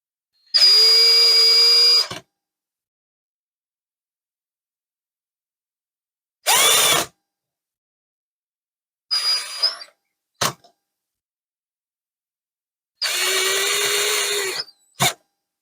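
Power drill driving screws out of a stand mixer during a repair, heard as several separate whirring bursts of a few seconds each with pauses between, close and loud.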